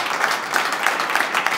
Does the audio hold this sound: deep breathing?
no